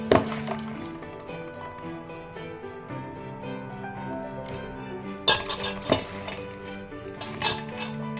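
A spoon scraping and clinking in a pot as tamarind pickle is mixed by hand with chillies, salt and turmeric, close and steady with sharper knocks near the middle and end.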